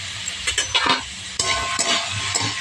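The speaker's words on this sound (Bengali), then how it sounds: "সবজিগুলো দিয়ে হালকা একটু ভাজা ভাজা করে নেব।" Mixed vegetables, including potato, carrot and beetroot, fry in a pan for vegetable chops, with a close sizzle under repeated scraping stirs of a spatula against the metal.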